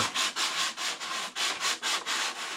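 Sandpaper is pulled back and forth over the balsa leading edge of a large-scale Pitts Special biplane model wing, giving about ten rhythmic, close, steady rasping strokes with brief gaps between them and no talking.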